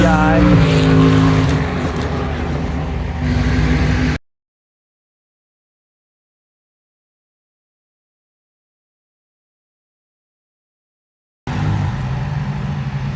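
A DPI prototype race car at Road Atlanta roars loud and close for about four seconds, then the sound cuts to silence before engine noise returns near the end.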